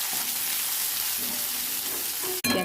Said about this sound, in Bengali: এগুলোকে আমি ভালো করে নেড়ে করে নেব